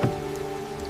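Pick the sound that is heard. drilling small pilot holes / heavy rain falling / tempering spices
heavy rain falling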